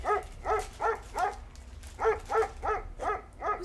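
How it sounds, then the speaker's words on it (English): A dog barks nine times in a steady, evenly spaced series, each bark short and clear at moderate distance, with no talk over it. "Whose dog is that?"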